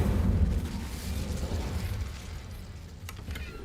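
Incendio fire spell cast in Hogwarts Legacy, a low rushing burst of flame that rumbles loudly at first and then fades over a few seconds, with faint mechanical clicks near the end.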